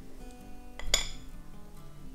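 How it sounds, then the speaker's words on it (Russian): A clean, dry fork clinks once, sharp and bright, against a container while coffee body scrub with coconut scent is mixed, followed by faint scraping in an otherwise quiet room. "Сухой чистой вилкой я туда вот так залезу."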